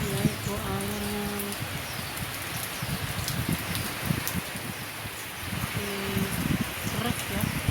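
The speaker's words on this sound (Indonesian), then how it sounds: "hujannya sangat deras sekali" Heavy rain pours steadily in Taiwan, a dense continuous hiss of water on surfaces that runs the whole time, with a few bird calls and some low, muffled talk underneath.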